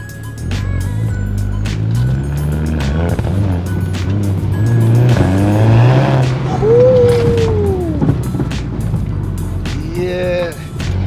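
A rebuilt Mk6 VW Golf R in race mode accelerates hard with wheelspin, its engine loud and close as it rises and falls through the revs, while people talk over it.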